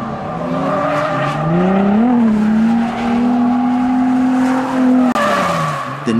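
A Nissan 300ZX Z32 (Fairlady Z) sports car drifting: a loud, close, sustained engine drone mixed with squealing tires, holding steady for about six seconds before briefly dipping near the end.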